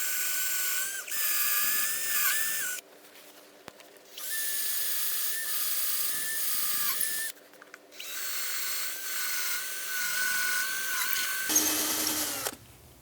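A power drill bores holes into wood while a tower retrofit kit is fitted to a Pilates reformer. There are three long, steady whining bursts separated by brief quiet pauses, and the last burst ends in a lower grinding tone.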